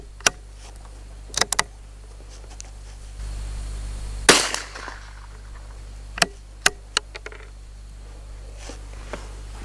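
A rifle with a Schmidt & Bender Zenith 1.5-6x42mm scope fires one loud, sharp shot on a shooting range. Lighter clicks and handling knocks come before and after it.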